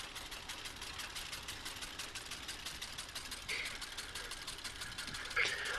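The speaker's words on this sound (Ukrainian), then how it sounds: "Я цю травичку скошу" Tractor mowing grass in Farming Simulator 19, with a T-16 tractor on a hayfield: a steady, moderately loud engine drone runs continuously under light mechanical chatter, with a brief louder bump near the end.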